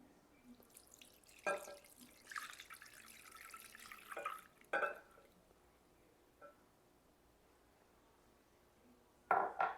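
Whole milk poured into a Ninja Creami pint over creamy peanut butter, a faint liquid trickle and drip with a few soft container clinks, quiet and close with brief gaps between bursts.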